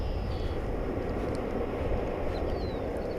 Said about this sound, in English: we watch this Frontier flight head off to Denver